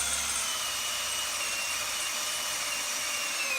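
Power drill boring a hole with a 3/16 bit through a snow shovel wear strip clamped in a vise: a steady high-pitched whine with slight pitch drift, continuous and fairly faint, without any voices.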